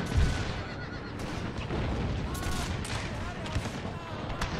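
Massed musket volleys in the Total War: Thirty Years War strategy game: dense rolls of crackling gunfire, with sharp shots popping out at intervals over a constant roar of battle noise.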